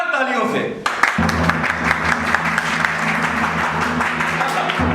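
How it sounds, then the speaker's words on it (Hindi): A stage-play audience breaks into sustained applause that stays even and fairly loud, with a low tonal hum running underneath. It follows a short lead-in sound at the start. "तो दोस्तों स्वागत कीजिए मुन्ना त्यागी का जोरदार तालियों से"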